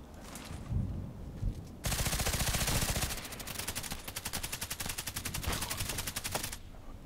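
Automatic gunfire in the shooter game Contract Wars comes in long, rapid, loud bursts of evenly spaced shots, with short gaps between them and no talking.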